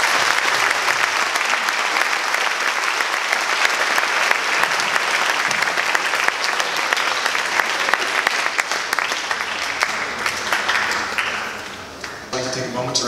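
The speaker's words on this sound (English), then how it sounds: "Please join me in a round of applause for our class" An audience at a baseball awards ceremony gives sustained, dense applause for the graduating class, loud and steady throughout with a few shouts mixed in, tapering slightly near the end.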